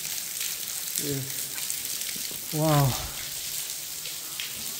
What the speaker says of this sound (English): The rain coming down that shaft.